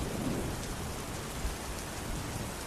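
A thunderstorm with heavy rain gives a dense, even roar of falling water, and a low thunder rumble rolls beneath it. The sound is constant and enveloping throughout, with no voices.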